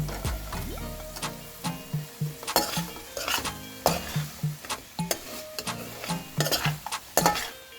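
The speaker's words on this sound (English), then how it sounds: "Give it a good mix" Seared paneer is stirred into a peas and cottage cheese curry in a pan, with a steady run of rhythmic spoon scrapes and clinks against the metal over a soft sizzle, close and distinct.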